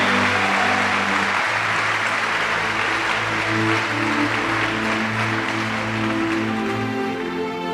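A church congregation claps loudly for God, dense sustained applause mixed with a droning organ or keyboard chord underneath, holding steady from start to finish.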